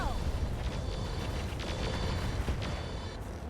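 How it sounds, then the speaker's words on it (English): Rocket volley from a battlemech in the RogueTech mech combat game, heard as a steady, dense roar of launch blasts and rumbling booms with brief bursts layered on top. "I am going to fire the rockets here."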